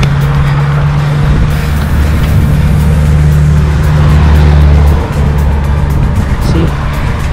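A car passes a cyclist on a rural road near Lake Saiko in the Fuji Five Lakes area, Japan, its steady engine hum mixed with constant wind rush over the rider's position.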